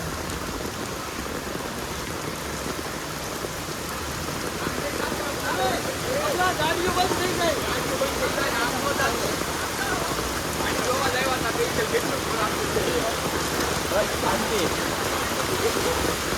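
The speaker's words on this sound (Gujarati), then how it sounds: "વરસાદે એન્ટ્રી મારી લીધી છે એકદમ જોરદાર" Heavy rain pouring in Pasodara village, with water flooding in and thunder and lightning around, a dense steady hiss of drops with voices talking in the background.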